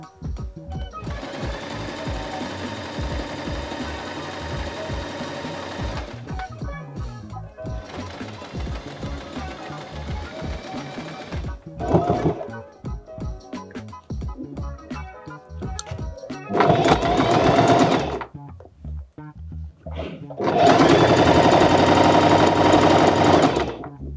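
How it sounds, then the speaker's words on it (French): A domestic sewing machine stitches seams along the sides of bedsheet fabric being turned into a tote bag and pillowcase. It runs loud and close in several bursts of steady mechanical whirring, with short pauses between runs. "on va pouvoir du coup faire une couture sur les 3 côtés"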